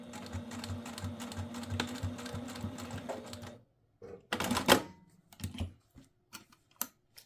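A sewing machine stitches a fabric tissue holder in a steady rapid run for several seconds, then stops, followed by scattered clicks and short handling bursts nearby.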